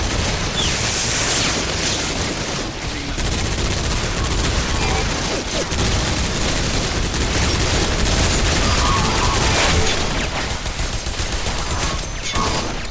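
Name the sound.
gunfire and explosions from the video game Bodycount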